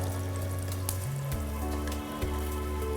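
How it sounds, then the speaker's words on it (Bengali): Crispy chicken wings deep-fry in bubbling oil, a steady crackling fizz with a low hum running underneath and no talking. "আমাদের উইংস প্রায় হয়ে এসেছে ফুটে ভাজা"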